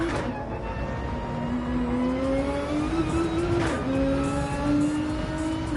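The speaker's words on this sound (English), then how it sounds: "Let's listen to the sound of this Nissan making its way through the final sector of Fuji" Nissan race car engine in Gran Turismo 7 at Fuji's final sector, a steady loud drone rising smoothly in pitch through the gears, with a brief shift dip midway and continuous running without pauses.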